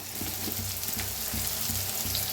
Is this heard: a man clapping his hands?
no